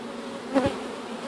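Honey bees buzz around an open backyard hive during an inspection, a steady low drone with one bee swelling louder as it passes close for a moment.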